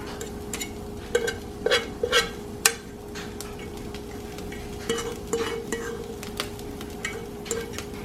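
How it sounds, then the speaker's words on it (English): Onions and peppers sizzle steadily while being stirred for a Philly cheesesteak, with a spatula scraping and tapping the pan in several sharp clacks over the hiss. "Now you're going to stir again."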